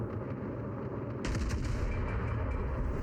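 Ship guns firing in World of Warships Legends gameplay on the Hyuga battleship, a sudden loud burst of naval gunfire after a stretch of steady engine and ambient hum, then continuing rumble.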